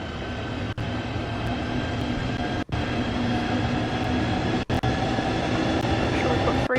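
Class 395 high-speed train running in the Train Sim World 2 game between Gillingham and Faversham, a steady loud rolling drone with a few abrupt brief dropouts, no talk.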